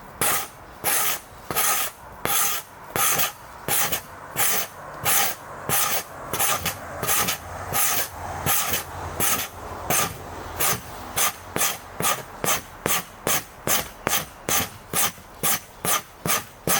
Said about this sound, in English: just gotta keep scraping. Scraping and scraping.